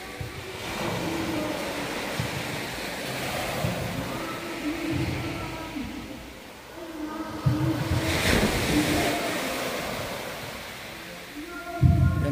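Sea surf at a beach resort in Sarangani, with waves washing in and receding in slow swells under wind buffeting the microphone and faint background talk.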